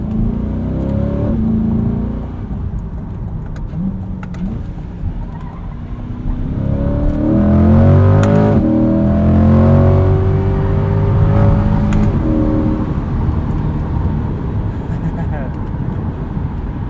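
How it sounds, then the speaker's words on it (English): A 2020 Chevrolet Corvette Stingray coupe drives along with its engine and open exhaust droning and rising in pitch, a steady loud rumble heard from inside the car with no talking. "The exhaust does open up, but it never really screams."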